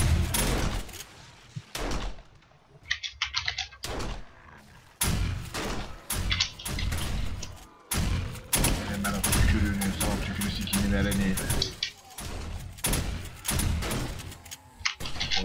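Repeated bursts of gunfire ring out in the zombie survival game 7 Days to Die, with sharp broadband cracks spaced irregularly across the scene and someone talking over them throughout.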